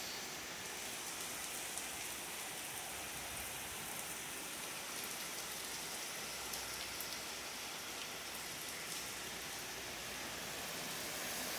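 Rain falls steadily on a morning in the Philippines, a dense, even hiss of drops on surfaces that continues without a break, with no voices.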